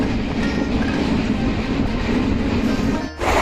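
A moving train's steady rumble and clickety-clack fills the background, loud and continuous, with a brief dip near the end before the roar returns.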